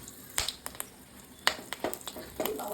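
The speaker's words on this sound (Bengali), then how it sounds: "আমি ওই তেলেই কালো জিরে ফোড়ন দিলাম, তার সাথে একটা চেরা কাঁচা লঙ্কা একটুখানি নাড়িয়ে নেব।" Black cumin seeds and a slit green chili tempering in leftover fish-frying oil, giving a soft, quiet sizzle broken by a few sharp crackles and pops spread across the moment.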